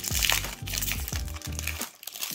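A Pokémon Brilliant Stars booster pack is handled and snipped open at close range, with crinkly foil rustling and several short crunching cuts in quick succession.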